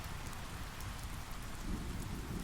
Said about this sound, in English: listening to the gentle drumming of the rain on the roof